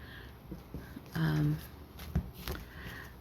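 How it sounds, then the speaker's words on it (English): A deck of playing cards cut into four piles, with a short riffling burst of cards and a couple of soft taps against the table, close by between quiet pauses. "Let's cut the deck 4 ways."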